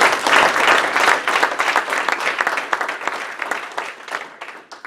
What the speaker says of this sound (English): I just wanted to give you an applause, Mike.